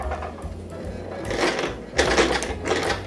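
A sewing machine stitches a zipper onto fabric in short, quiet bursts of rapid mechanical whirring separated by brief pauses, with a faint voice now and then.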